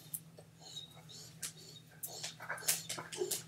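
An old dachshund whimpers and whines for food in a quiet indoor room, making soft, intermittent high squeaks and whines that grow a little busier toward the end.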